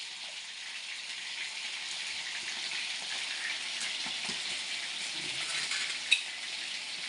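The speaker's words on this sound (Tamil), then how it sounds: "கொதிக்குது." Okra and lentil sambar simmers in a pot, a soft continuous bubbling hiss that stays even throughout, with a faint click near the end.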